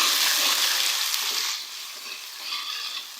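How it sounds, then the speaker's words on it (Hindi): Ginger garlic paste frying with onions in a pan for masala gobi, a steady close sizzle and crackle that is loudest at first and then eases to a softer, even hiss with small swells. "और 1 मिनट तक हम लोग अदरक लहसुन के पेस्ट को प्याज के साथ फ्राई करेंगे।"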